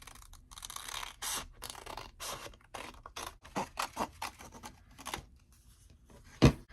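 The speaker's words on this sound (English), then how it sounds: "as soon as that glue is dry, we can go ahead and cut it out." Scissors snip through glued paper ephemera made from paper scraps, a close run of short crisp cuts and scratchy paper rustles with uneven rhythm, ending in one sharper louder snip.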